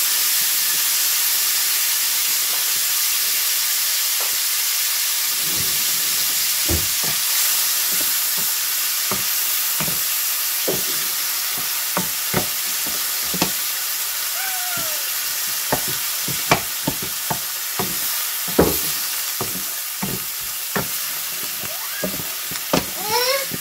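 Frozen onions fry in hot oil in a pan with a constant loud sizzle and hiss, scattered pops and crackles, and occasional stirring scrapes over about twenty seconds.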